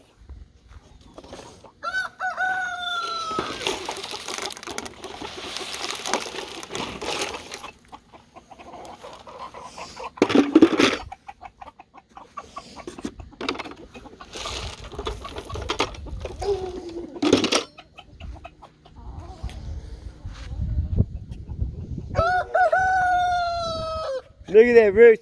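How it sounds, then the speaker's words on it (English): Chickens and a rooster on a homestead cluck and crow, with a full cock-a-doodle-doo near the start and another toward the end, while a person talks intermittently close by. "Look at that rooster."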